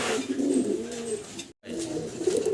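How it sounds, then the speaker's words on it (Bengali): A pair of large red Gopalganj pigeons kept in a cage coo repeatedly. The low, throaty calls roll in close and clear, with a short break in the middle. "গোপালগঞ্জের বড় পায়রা রেড কালারের ভিতরে দেখেন, ডাকাডাকিতে ব্যস্ত আছেন নট"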